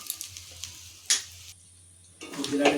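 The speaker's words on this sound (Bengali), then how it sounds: "একটু নাড়াচাড়া করে নিচ্ছি" Food being stirred fairly dry in a frying pan, finished with ground black pepper: short bursts of scraping and sizzling with light ticks, a brief lull midway, then louder stirring at the end.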